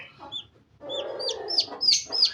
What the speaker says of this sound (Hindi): आप ये चिक्स भी देख सकते हैं माशाल्लाह से कितने प्यारे चिक्स हैं ये